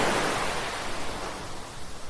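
Ocean surf at Estancia Beach in Lingayen, Pangasinan, rolls as a steady, loud wash of broadband noise, close and continuous with no voices.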